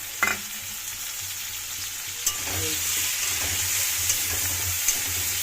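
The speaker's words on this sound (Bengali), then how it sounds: "এবার আমি আদা আর পেঁয়াজ বাটা দিয়ে দিলাম" Ginger and onion paste frying in hot oil with potatoes, a loud continuous sizzle rising after a couple of initial clinks, close and steady with no talk.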